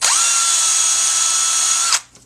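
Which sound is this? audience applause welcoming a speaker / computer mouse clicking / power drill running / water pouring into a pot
power drill running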